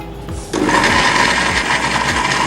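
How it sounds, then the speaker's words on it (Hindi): A kitchen mixer grinder whirs up to a loud, steady high-pitched grind while chopping green chillies, garlic and red chillies with a little water, kicking in after a brief quieter lead-in and running continuously. "हरी मिर्च, लहसुन और लाल मिर्च दोनों मिक्स हमने बारीक पीस लिए"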